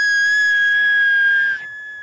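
A person whistles a loud, close, steady high tone in Turkish whistled language. The pitch holds for over a second and a half, then abruptly drops slightly lower and continues.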